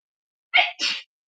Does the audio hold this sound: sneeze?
yes